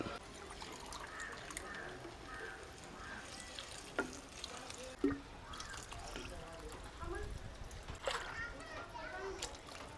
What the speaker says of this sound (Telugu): నేను మూడున్నర గ్లాసు నీళ్ళు పోసుకోవాలి